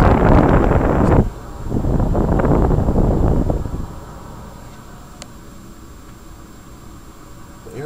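Air rushing loudly from a first-floor vent of a 2001 Trane XE1000 5-ton heat pump running in heat mode, a strong close whoosh that cuts out briefly, returns, then fades to a faint hiss.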